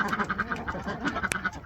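Ducks out on grass quacking in quick, repeated calls, close and fairly loud, with a rhythmic chorus of several birds over a short burst.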